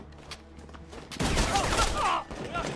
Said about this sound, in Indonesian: Lalu semua penjaga Sang Tae ditembak.